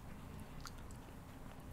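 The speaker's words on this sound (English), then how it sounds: "Super crunchy. It does say double crunch. Definitely has a double crunch." Someone chews ketchup-flavoured double-crunch potato chips up close, with faint, irregular crunchy bites over a low background rumble.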